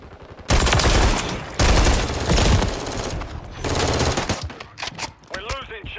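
Loud bursts of automatic gunfire from Call of Duty multiplayer, long sustained machine-gun volleys broken by short pauses, then scattered single shots and ricochet-like whines as the firing tapers off.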